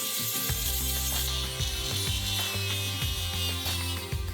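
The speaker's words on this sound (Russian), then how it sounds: "С помощью бор-машинки пропиливаем кость" A high-pitched rotary tool whines while cutting through bone to carve a needle shape, its motor pitch dipping and rising in repeated strokes as it bites and releases.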